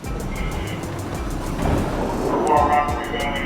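A New York City subway A train runs at night, with a continuous heavy rumble and rhythmic clicking of wheels over the rails, loud and close throughout.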